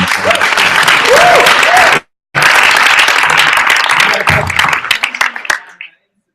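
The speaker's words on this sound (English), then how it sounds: "So, let's have a round of applause for Dave Filoni." Audience applause at a live podcast event at a convention, with close, energetic clapping and whoops, a brief break, then more applause that tapers off to quiet, with voices mixed in.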